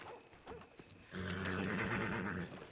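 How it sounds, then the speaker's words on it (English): In Red Dead Redemption 2, a horse stands in a town street: a few soft thuds, then a loud, drawn-out whinny lasting over a second, close by with no talking. "Is this one of y'all's horse in the middle of the street?"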